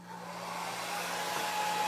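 A hair dryer blows steadily to dry ink on a silk screen for printing. Its close, continuous whirring airflow rises slightly in loudness and pitch partway through.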